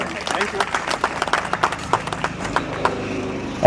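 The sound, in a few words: applause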